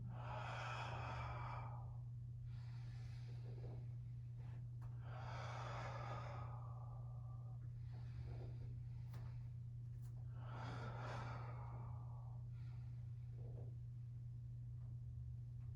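Heavy breathing during a mat workout exercise, with several long rhythmic exhales and inhales spaced a few seconds apart, close and fairly quiet over a steady low electrical hum.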